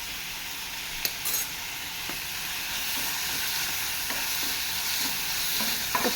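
Sliced onions with salt sauté in a pan with a steady bright sizzle and a few scrapes and taps of a stirring spoon, close and alone with no talking.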